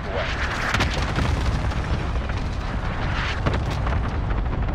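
Airstrike explosions in a video game form a continuous loud, rumbling barrage of booms and blasts. Bursts overlap with no pauses.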